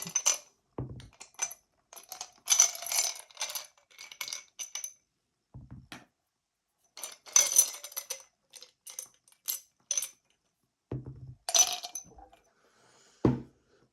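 Three small dice clatter and tumble in several short bursts separated by pauses, bright clicking rattles close by with no talking.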